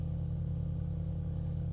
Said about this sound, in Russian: Какой звук двигателя.